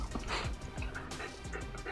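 A dog pants steadily with quick rhythmic breaths close by, with faint whimpering touches over an indoor background hum.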